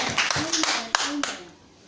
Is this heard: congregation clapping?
yes